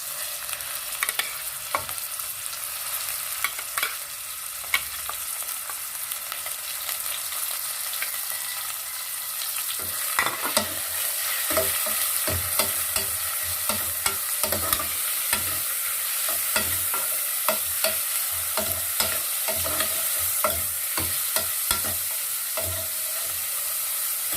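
Pork fries hard in a hot pan while a utensil stirs it, a steady loud sizzle broken by scraping clicks and clatters, busiest in the second half, with no talking.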